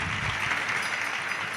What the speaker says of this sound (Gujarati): તાળીઓના માધ્યમથી આપણે વધાવીએ.